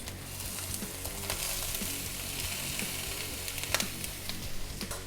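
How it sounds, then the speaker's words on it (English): Brussels sprouts go into a hot pan as part of a Thanksgiving side dish and fry with a loud, dense sizzle, with the crackle and scrape of stirring throughout. "Now we will add the Brussels sprouts."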